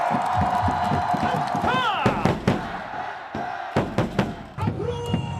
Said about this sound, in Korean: 함성 보내주세요!